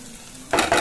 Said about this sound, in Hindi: तो ये बस फटाफट से तड़का लगा देती हूँ